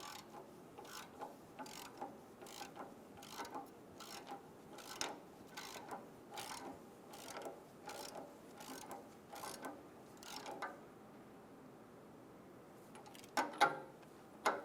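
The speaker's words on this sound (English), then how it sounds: "Using a 27mm socket, snug the block heater down." Socket ratchet with a 27mm socket snugging down an engine block heater on a 2010-2014 Subaru Outback, a steady series of quiet rhythmic clicks from repeated strokes, close, with a few louder clanks near the end.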